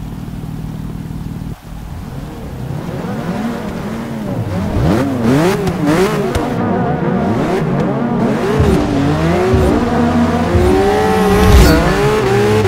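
A 2014 Volvo Polestar Racing S60 STCC touring race car in Forza Motorsport 6, its engine loud and close, revving up and down through repeated gear shifts with a rising, falling whine over the whole stretch.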